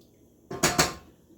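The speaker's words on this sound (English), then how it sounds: "Okay, got my sour cream, and I'm going to stir this." Sour cream being stirred into a chicken pasta casserole, heard as two quick, close scraping clanks of a spoon against the dish, then quiet.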